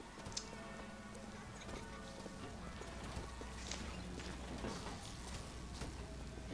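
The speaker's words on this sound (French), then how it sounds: "Bonjour monsieur cheval électrique." A mechanical electric horse in the video game Bioshock Infinite clip-clops faintly, a soft steady hoof rhythm beneath game ambience and music.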